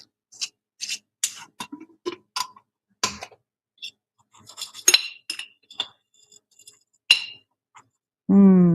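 Metal cutlery clinks and taps against a jar and bowl as a tablespoon of ginger is scooped for winter herbal medicine prep, a scattered run of close, crisp ticks and scrapes, ending with a short tonal sound.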